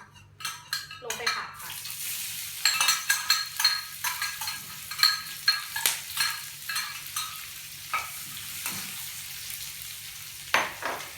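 Chillies and pounded garlic frying in hot oil in a pan, a steady sizzle carrying through with repeated stirring scrapes and clinks of a utensil against the pan, close and moderately loud.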